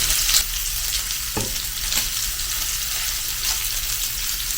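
Pieces of Japanese A5 Wagyu beef sizzle steadily in a pan, a continuous close frying hiss with a few soft clicks and scrapes of stirring, no voices.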